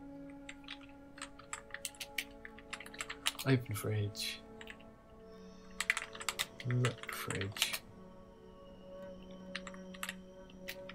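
Bursts of clicky computer-keyboard typing enter short text commands for the Mystery House game, broken up by pauses and a person speaking briefly between the runs of keystrokes.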